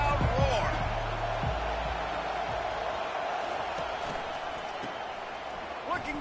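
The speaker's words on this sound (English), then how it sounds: "Defense has him pinned back, and listen to this crowd roar." A stadium crowd roars in College Football 25, a broad sustained wash of noise beginning with a louder swell and low rumbling thumps, then holding steady while a play-by-play voice talks over it.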